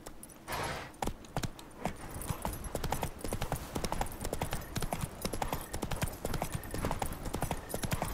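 Horse hooves galloping in The Witcher 3, a steady rhythmic clip-clop of hoofbeats running continuously and fairly close, with soft game ambience underneath.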